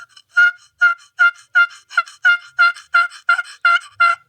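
A handheld turkey call imitates a hen turkey's yelp: about eleven sharp, evenly spaced raspy notes in a fast rhythmic run, loud and close, with no voices.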